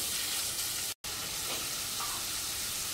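Prawns sauté in a pan over a medium flame with a constant, even hiss and sizzle, briefly cut off for a split second before resuming, heard close up with no voices.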